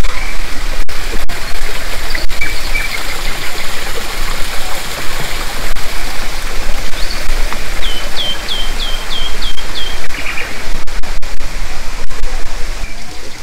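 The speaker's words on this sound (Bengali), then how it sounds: "পাখির ডাক, ঝিঝিপোকার ডাক, সঙ্গে জলের আওয়াজ।" Water rushing steadily outdoors on the way down to the Sanctuary of Truth in Pattaya, loud and constant, with a short run of chirping bird calls and scattered clicks over the flow.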